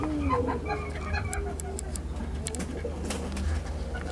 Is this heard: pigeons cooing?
yes